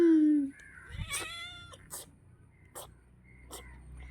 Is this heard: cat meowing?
yes